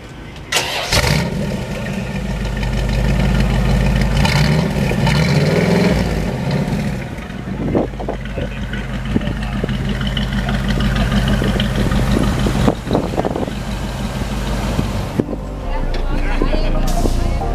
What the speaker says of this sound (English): these little 305s and stuff are real throaty, and they sound really good